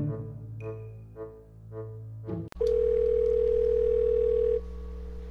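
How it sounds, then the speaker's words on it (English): A phone in GTA 5 dials a secret number: a run of short keypad tones, then a sharp click and a steady, loud tone that holds for a couple of seconds before dropping lower. "bring up your phone to dial a secret phone number"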